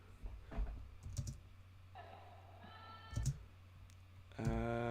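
Scattered keystrokes and clicks on a computer keyboard while editing in Final Cut Pro X, soft irregular taps over a low hum with a few brief tonal sounds from the edit playing.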